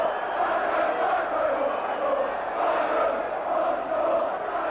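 Football crowd at Derby County versus Nottingham Forest in 1990 jeering Stuart Pearce, a dense sustained roar of massed voices rising and falling in waves, loud and continuous.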